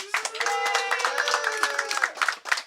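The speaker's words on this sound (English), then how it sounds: "Round of applause, please." A group of players applauds at a Memorial Day Dubs event at Slippery Slopes. The claps are close and uneven, and they mix with voices cheering and calling out, then break into scattered separate claps near the end.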